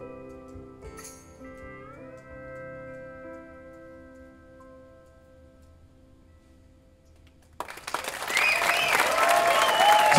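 An audience breaks into loud, dense applause after a live performance of a song, following a fading sustained steel-guitar note and near-silence.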